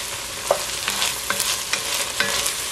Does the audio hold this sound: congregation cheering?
no